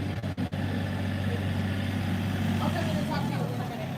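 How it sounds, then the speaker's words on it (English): A low, steady engine rumble drones in the background throughout, like a tractor idling, with a few brief clicks near the start. "there's a tractor in the back"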